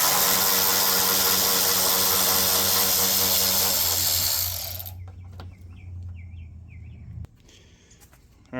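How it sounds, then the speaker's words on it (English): A power ratchet runs on the bumper-cover bolts of a 2012 Lincoln MKT, a loud, close, continuous whirring buzz for about five seconds. It then stops, leaving quiet outdoor air with birds chirping. "Power ratchet. Best tool I ever bought."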